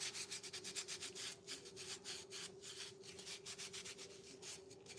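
Wood stain is rubbed onto a wooden bunny cutout in soft, even back-and-forth strokes, a faint rhythmic scrubbing that repeats steadily with no talking.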